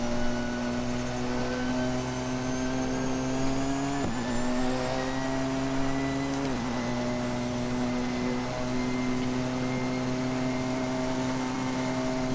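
Porsche 919 hybrid race car lapping Spa in the Assetto Corsa racing game, its engine note droning steadily and loud throughout with brief pitch dips around gear changes, no voices.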